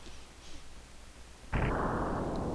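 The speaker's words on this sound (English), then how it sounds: "Look at those crappy little explosions." A small bomb explosion in the Breath of Fire II video game bursts in suddenly after a quiet stretch, then holds as a dense, crackling rumble, moderately loud and alone.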